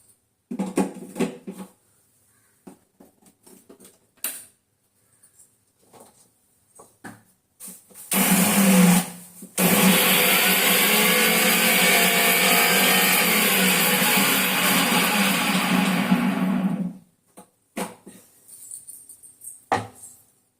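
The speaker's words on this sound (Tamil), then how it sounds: "மிக்சி ஜாரில் போட்டு ஒரு திருவின்னு வந்துடலாம்" A mixer grinder jar grinding soaked wheat and semolina batter, a loud, steady motor whir running for about nine seconds with a brief pause near the start, framed by clinks and handling sounds before and after.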